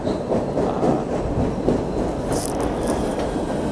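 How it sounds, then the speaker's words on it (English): A train rolling past close by, loud rumbling wheels and rail noise with a brief high metallic squeal midway. "Here comes the train"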